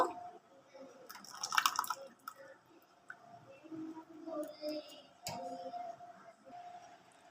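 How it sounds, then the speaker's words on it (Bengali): Thick semolina and yogurt batter pours into a deep bowl, giving soft, close wet drips and squishy splats in quiet bursts against a faint kitchen background. "এখানে আমি একটা গর্ত বাটি নিয়েছি, ব্যাটারটা বাটির মধ্যে ঢেলে নেব।"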